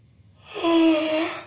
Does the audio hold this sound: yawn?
yes